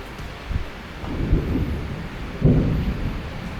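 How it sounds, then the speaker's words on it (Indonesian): Rain falls steadily over a football stadium with metal spectator seats, and two low rolls of thunder swell through the wash of rainfall; no one speaks. "Lagi hujan ya."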